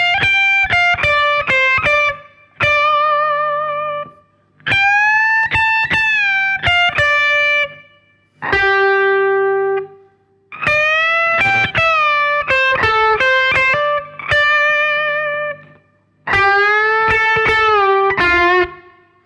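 Distorted electric guitar plays the solo from a song slowly in separate phrases, sustained bending notes with short pauses between, loud and close, no voices.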